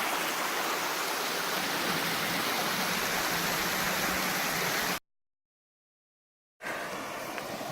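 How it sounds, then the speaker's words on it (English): A small waterfall in the Wind River Range mountains gives a steady, even hiss of falling water. The sound drops out into silence for about a second and a half, then the flow returns more faintly. "Another beautiful little waterfall."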